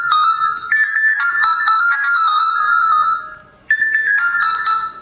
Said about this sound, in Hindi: दो ही रिंगटोन यहाँ पे प्रोवाइड की जा रही है।